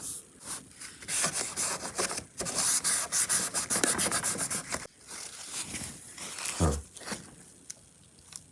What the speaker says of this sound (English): I'm going to go ahead and wipe this off first